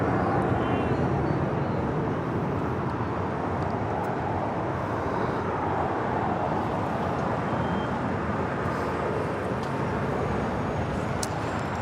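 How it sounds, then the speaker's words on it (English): Qatar Cargo Boeing 777 freighter taking off at LAX, bound for Liège: a steady, loud broadband jet roar that holds evenly throughout with no break, spread wide across the range. "This is Qatar Cargo 8172 taking off to Liège on a 777 freighter."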